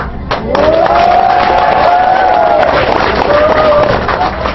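Audience at a VMobile business presentation breaking into loud, sustained applause and cheering, with voices calling out over the clapping.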